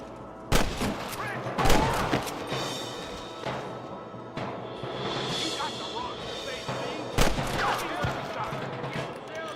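Gunfire crackles through a shootout in Red Dead Redemption, with several loud sharp shots standing apart and scattered fainter reports in between, while voices talk over the fighting.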